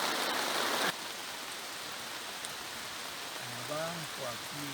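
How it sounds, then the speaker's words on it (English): Rain falls steadily in the Amazon rainforest along the Rio Nushino, a dense hiss that is heavier at first and then settles, with a few faint bird calls in the background. "Rain again?"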